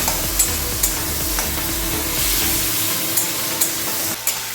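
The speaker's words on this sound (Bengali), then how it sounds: "এদিকে আলু টমেটো ভাজা ভাজা হোক" Potatoes and tomatoes frying in a pan with salt, turmeric and grated ginger, giving a steady close sizzle with occasional stirring clicks and scrapes throughout.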